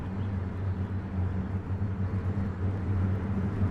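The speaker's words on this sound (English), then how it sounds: "I feel like all the engines should sound completely different" Car engines in a city-builder video game make a faint, steady low rumbling hum, uniform and droning, with no distinct revs and no talk heard.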